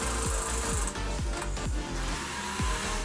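A drill bores into material for a homemade wire stripper, a close steady whirring with repeated short grinding bursts and pitch dips as the bit bites.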